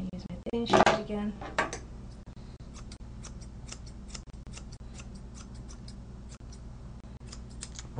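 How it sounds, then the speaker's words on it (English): Thinning shears cutting dog hair during grooming: a louder handling noise at first, then a long series of soft, evenly spaced metallic snips, close up, with no talk. "I use my thinning shears again."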